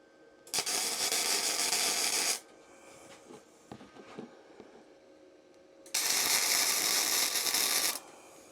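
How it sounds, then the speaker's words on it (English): Two bursts of electric arc welding on steel, each a loud, dense crackling hiss lasting about two seconds, separated by a quieter gap of faint clicks and shop noise. "Then you've got to do a spot weld on either side."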